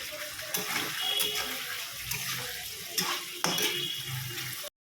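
Water splashes into a pan of cooking potol posto, producing a brief hiss and bubbling sizzle with light clatter of utensils, close by, before cutting off abruptly.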